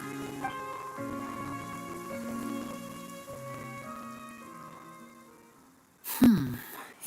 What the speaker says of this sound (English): It rained for longer than I suspected.